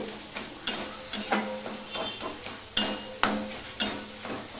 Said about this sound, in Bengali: মিষ্টি নুন দিয়ে আমি সম্পূর্ণটা ভালো করে আবার মিশিয়ে নিচ্ছি। দেখো আরো ঘেটে নিচ্ছি।